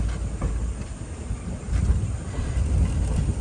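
A Mangaluru–Puducherry weekly express rolls into Shoranur Junction station with a steady low rumble and faint wheel clatter, heard close and continuous with no voices.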